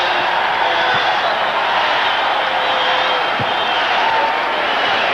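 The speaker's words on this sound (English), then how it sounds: "Look at him, and the crowd erupts." A basketball arena crowd at a 1986 college tournament game between Georgetown and Michigan State, a dense, loud, sustained roar of cheering that holds steady with no break.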